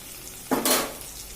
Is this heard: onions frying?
yes